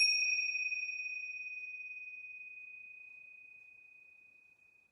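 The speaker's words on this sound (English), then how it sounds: "listening for the bell, and you're going to roll back up only when there's no sound" A single bell struck during a yoga session rings out as a clear, pure tone that decays slowly and steadily across nearly five seconds, heard alone in an otherwise silent room.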